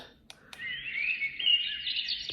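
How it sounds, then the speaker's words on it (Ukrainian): A small battery-powered baby white noise machine plays electronic bird chirps and trills steadily over a quiet background, with a couple of sharp clicks near the start. "пташечки"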